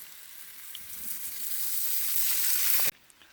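Polish sausage frying in a pan over a forest campfire, steady bright sizzle building for a few seconds, then cutting off abruptly.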